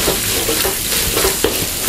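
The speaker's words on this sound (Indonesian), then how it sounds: "Kita tumis. Kita taruh nasi. Masukkan tu sosis." Sausage fried rice is stir-fried in a pan, with a loud continuous sizzle and the rhythmic scraping of a spatula stirring several times over it.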